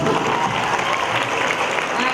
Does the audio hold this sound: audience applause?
yes